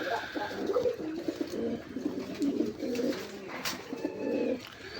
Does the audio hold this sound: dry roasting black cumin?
no